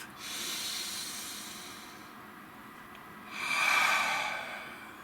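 Slow, deep breaths come in a quiet room, a long soft airy exhale followed after a pause by a louder, fuller breath, close and unaccompanied by talk.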